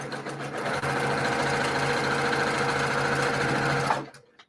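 A sewing machine stitching quilt block pieces cut on the bias runs at a steady fast hum for about four seconds, close and loud, then stops abruptly.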